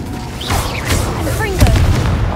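Incendio fire spell being cast in the Hogwarts Legacy video game: a burst of whooshing flame with a booming low thump, overlapping a couple of short swooping magical tones, dense and loud over about two seconds.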